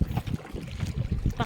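A wooden bangka's engine runs roughly on a night crossing toward Sidanao Island, its faltering motor giving uneven low chugging pulses close by, mixed with wind buffeting.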